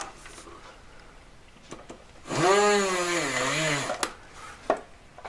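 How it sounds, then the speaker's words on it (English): A dull drill bores a hole for the centre stone of a handmade three-stone ring, giving one whining burst of about a second and a half whose pitch wavers and bends, set between quiet handling noises. "go ahead and drill a hole in it"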